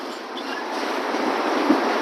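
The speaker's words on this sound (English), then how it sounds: "It's a little bit hard to see that train across the street there" Norfolk Southern freight train rolling past across the street at night, a steady broadband rumble and roar heard from a moderate distance without pause.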